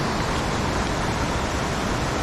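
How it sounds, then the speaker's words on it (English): Rushing water from waterfalls pouring out of a mountain lake along Big Pine Creek, a dense, steady roar of broadband noise heard close, unbroken and without voices. "just the sound of that rushing water"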